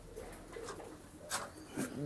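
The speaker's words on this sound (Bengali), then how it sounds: "আপনার কবুতরগুলো দর্শকদেরকে দেখাই" Pigeons coo quietly in short bursts over low background noise, with a clearer rounded coo near the end; a voice speaks faintly in the background.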